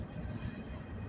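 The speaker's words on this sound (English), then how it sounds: "You can hear the other train on the other side of this going." A train passes on a nearby track beside an industry siding in Texas, heard as a steady, rumbling roll with faint rhythmic clatter, continuous and moderately close, with no talking.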